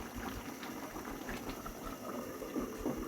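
Tomatoes simmering in a home cooking pot, a soft continuous bubbling and gurgling close up, quiet and steady with no talk.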